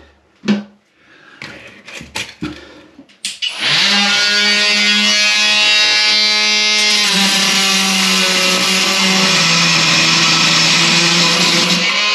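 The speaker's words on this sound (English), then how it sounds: "we just try and cut that lug off the bottom and see if we can get it off that way" A power tool cuts a lug off the bottom of a two-port heating valve. A few sharp knocks come first, then a loud, steady whining cut runs close up to the end.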